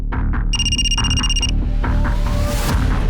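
An electronic telephone ring trills for about a second, a steady high warbling tone over a constant low background hum, in a crime drama.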